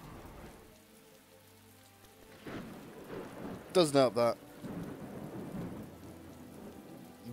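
Rain falls steadily during a Stargate Galactic Conquest game, with a rumbling thunder crack in the middle and a voice talking over the storm.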